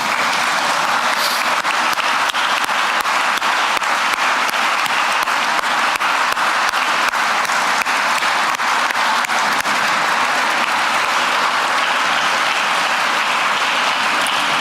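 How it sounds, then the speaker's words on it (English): Steady, sustained applause from a gala audience honoring Stonington Lodge members, a dense wash of clapping hands that continues evenly for the whole stretch with no voices over it. "please stand so we could give you a nice round of applause"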